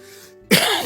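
A man coughs once, a short harsh burst that comes close and loud after a quiet moment, with no speech around it.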